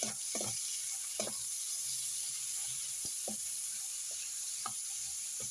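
Garlic and onion sauté in a pan with a constant bright sizzle, while a voice speaks intermittently and faint utensil clicks sound beneath it.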